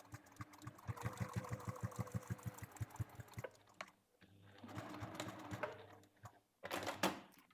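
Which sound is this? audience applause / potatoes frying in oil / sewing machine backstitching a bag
sewing machine backstitching a bag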